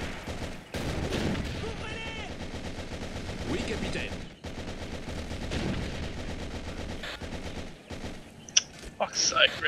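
Machine guns rattle almost continuously in a World War-era strategy battle, dense sustained bursts with heavier booms mixed in, carrying on under intermittent voices talking.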